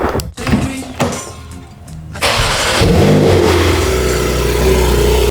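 A car engine starts up and revs, loud and close, its roar climbing then holding at a steady high drone after a few seconds of quieter thumps and rustling inside the car.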